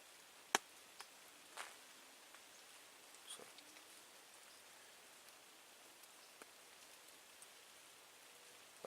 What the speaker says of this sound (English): as you can hear, it's kind of still raining out